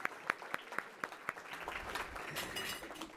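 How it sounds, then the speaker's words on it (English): A small audience at a civic club event in Columbus claps, a few sharp separate claps first, then brief scattered applause that fades out, heard fairly faintly. "Yes, we can clap if you would like that."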